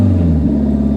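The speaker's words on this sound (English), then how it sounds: "Let's do a little rev." A kei truck engine fitted with an aftermarket behind-the-bumper muffler revs loudly up close, a steady deep drone whose pitch shifts partway through, with no voices.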